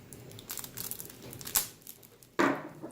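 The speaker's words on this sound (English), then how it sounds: "Scissors not available, using a knife." A knife cutting into plastic packaging for a Razer Phone screen protector, with soft crinkling and scraping, then two sharp crackling snaps as the plastic gives way, close and fairly quiet.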